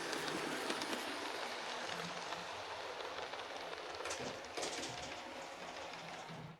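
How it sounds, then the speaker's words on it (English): Continuous broadband rumble of a train rolling past at steady loudness, with rhythmic clatter and a couple of brief louder bursts near the end. "you get a nice view of the train going past"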